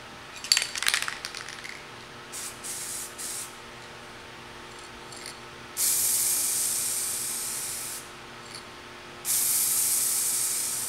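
Two long, loud bursts of Spray.Bike aerosol spray paint hiss steadily, preceded by can rattling and a few shorter sprays, close by.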